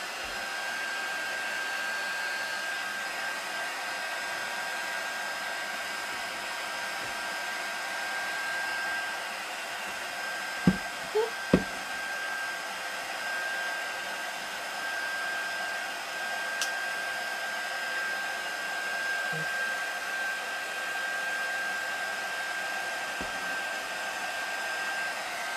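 Small handheld heat tool or dryer drying a craft piece for a bee-themed tiered tray sign, a steady even whir running continuously, close and moderately loud, with a few brief clicks and knocks partway through.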